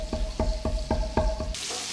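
Pheasant frying in brown butter while being basted, a steady sizzle broken by a regular series of scraping spoon strokes roughly every quarter second, close and fairly loud.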